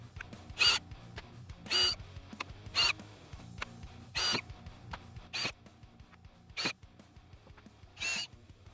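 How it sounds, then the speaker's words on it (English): A power drill whirs in short, high-pitched bursts about a second apart, eight or so in a row, with quiet clicks and shuffling between them, drilling rivet holes to fit fender flares on a 2024 Polaris. "Install a rivet as you drill each hole."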